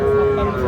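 A Sahiwal bull calf at a cattle market lets out a single short, loud, close moo with a steady low tone across the whole moment.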